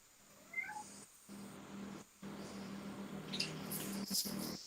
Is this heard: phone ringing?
no